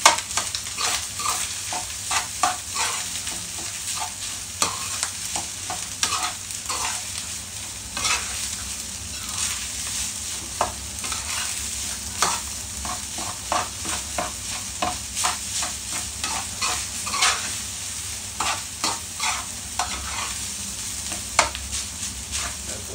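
Fried rice is stirred briskly in a hot pan, with a loud continuous sizzle and rapid, rhythmic scraping and clinking of the spatula that continue steadily without pause.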